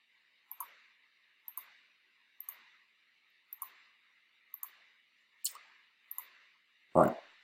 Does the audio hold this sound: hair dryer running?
no